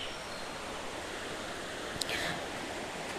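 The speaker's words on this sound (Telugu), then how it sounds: "జలపాతం ఇక్కడ పెద్దగా అవుతూ ఉంది" Waterfall pouring down a hillside at a hill hamlet, a steady broad rushing roar with no breaks and a brief faint rustle near the middle.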